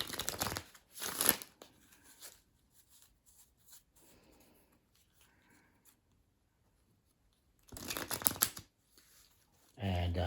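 A deck of cards being shuffled for a game of tarot, heard as two crisp riffling bursts separated by a quiet stretch of soft handling, with a third burst starting at the very end.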